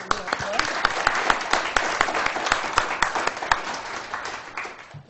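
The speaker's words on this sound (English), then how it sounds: "I'll give you a little applause." A small audience applauds a presentation on the Mars Orbiter Mission attitude and orbit control software, with sharp individual claps clearly separable over about five seconds before fading at the end, a voice briefly heard alongside.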